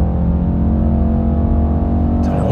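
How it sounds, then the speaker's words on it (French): A Mercedes E63s biturbo V8 roars at full throttle from inside the cabin, a dense, steady, loud engine howl held high for the whole short burst. "Le Rupteur à 7000 tours sur un biturbo, ça s'arrête jamais."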